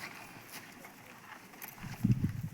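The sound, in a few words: bullocks walking, hoof steps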